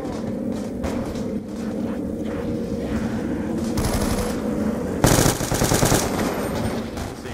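Rapid automatic gunfire from Black Ops 2 Zombies on the Town map, loud and steady throughout, with a denser, harsher burst of shots near the end.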